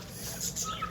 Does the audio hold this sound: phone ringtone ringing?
no